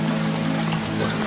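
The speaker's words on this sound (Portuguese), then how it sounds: "Está chovendo muito." Heavy rain pours down steadily in a dense, even hiss with a low constant hum beneath, loud and continuous with no voices.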